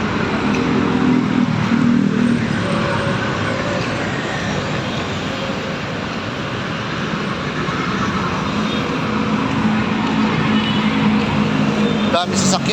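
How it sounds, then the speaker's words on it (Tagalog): Heavy road traffic with cars, motorcycles and large vehicles crowding the street, heard as a continuous, fairly loud broadband roar of engines and tyres that stays steady throughout. "Dami sasakyan."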